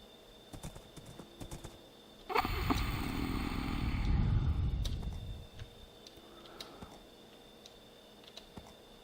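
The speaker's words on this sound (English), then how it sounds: "That is one strong horse." Horse galloping in the Minecraft video game, a rapid burst of hooves that starts suddenly, holds steady for about three seconds, then cuts off, with soft clicks before and after.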